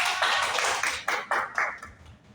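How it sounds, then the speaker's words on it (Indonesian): A short burst of group clapping in a classroom microteaching session, several rhythmic rounds of hands clapping together in unison at moderate volume, fading out after about two seconds. "tepuk tangan bersama"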